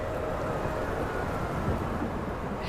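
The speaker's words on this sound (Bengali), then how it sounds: "সারা আকাশ কালো করে শুরু হলো ঝড় ও বৃষ্টি" A thunderstorm roars with a dense, steady wash of heavy rain and low rumbling thunder under a dark sky, loud and continuous with no voices, in the eerie setting of a horror tale.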